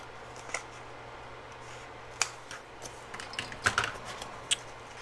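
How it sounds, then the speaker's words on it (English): Scissors trim excess white paper for junk journal pockets in a row of small quiet snips and clicks, irregularly spaced and clustered toward the end over a low steady hum. "I'm going to trim some more of this white off"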